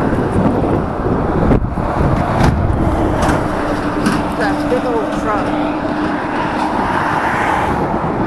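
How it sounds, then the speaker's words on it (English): Traffic passing on the Maurice Town Bridge, a loud continuous roar of vehicles mixed with wind buffeting the microphone, with a person talking over it. "Traffic sound, I don't know how to drown it out."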